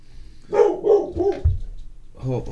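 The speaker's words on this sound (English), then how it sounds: "Oh, a woof. I have to check the door. Dougie needs to calm down." A dog barks at the door, several quick barks in a burst followed by another bark a moment later, fairly close and loud.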